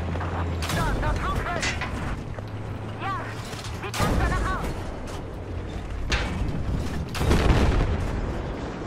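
Booming explosions and heavy mechanical rumble from a tank being destroyed in Battlefield 4, several loud blasts spread through continuous game noise, with a person talking over it in German.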